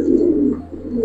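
A pair of Giribaz pigeons, a male and a female, coo softly and close by in a low continuous burble.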